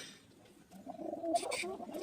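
A Sirazi pigeon chick gives a short, soft cooing call from close by in a quiet loft, with a brief brighter burst near the end and someone talking quietly.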